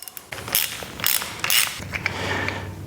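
A 19 mm socket on a ratchet works a fork top cap loose on KYB open chamber forks, with several quick metallic clicks and ratcheting bursts followed by a low mechanical hum, close and fairly loud.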